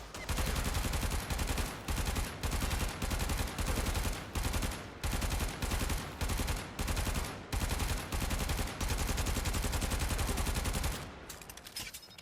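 The Zenith weapon in Warframe fires in long, rapid automatic bursts, loud and close, each burst a dense stream of shots separated by brief pauses, with no speech.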